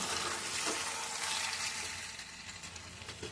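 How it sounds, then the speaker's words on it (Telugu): A fish curry with ginger paste and masala is stirred in a hot pan, giving a continuous loud sizzle with soft scraping strokes of the spoon, heard alone without any voices. "అల్లం పేస్ట్ వేసి మసాలా వేసి అన్నీ కలిపేసుకోవాలి అలా వేసేసాను ఇలా కలుపుకోవాలి"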